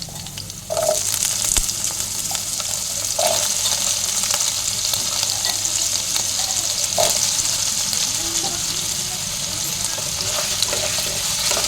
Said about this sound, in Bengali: আলুটা এখন লাল লাল করে একটু ভেজে নেব